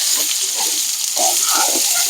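Eggplant and potato pieces fry with onion in a hot pan, giving a constant broad sizzle and hiss with soft stirring shuffles underneath.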